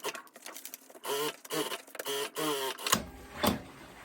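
Sewing machine stitching a faux leather skirt waistband, running in several short mechanical bursts of rapid needle chatter separated by brief pauses, close and fairly quiet.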